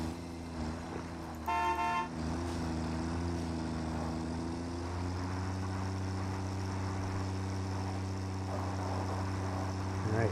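A vehicle horn in the Satisfactory video game, driving a tractor, sounds one short loud honk over a steady low engine drone, followed by continuing engine hum.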